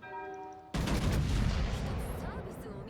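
A sudden heavy naval gun salvo booms in World of Warships, a loud broad blast that rolls on and slowly fades over a couple of seconds.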